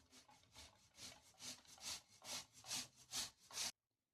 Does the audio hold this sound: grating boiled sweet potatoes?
yes